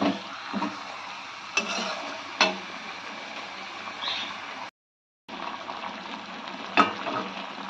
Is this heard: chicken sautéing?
yes